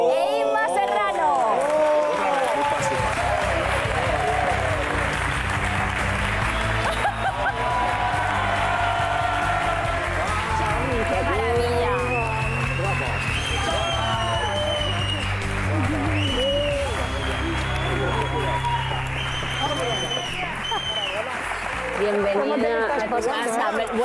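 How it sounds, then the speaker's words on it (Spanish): Studio audience applause on a Spanish TV reunion show, a dense, steady clapping that lasts throughout with scattered cheers and crowd chatter, while a host talks over it. "Un aplauso para las malas de la película"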